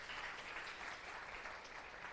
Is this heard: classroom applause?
yes